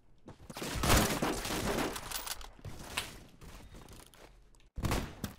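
Sniper rifle gunfire in the Roblox game Phantom Forces: a burst of sharp shots and crackling fire swells and fades over several seconds, then one final loud shot cuts in after a brief silence.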